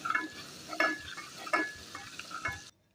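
Garlic ginger paste sizzles softly in hot oil while a spoon stirs and scrapes the pan in short, irregular strokes. Quiet and close.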